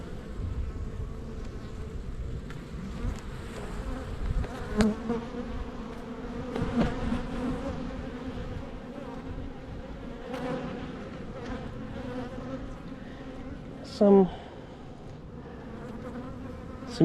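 Honey bees buzz steadily around an open hive that is trying to swarm, a dense, continuous drone close by with individual bees flying past, and a brief louder buzz near the end. No one talks.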